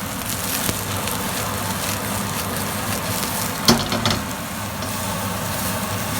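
Mushrooms sauté in hot oil in a wok, giving a steady loud sizzle with a brief clatter of stirring partway through.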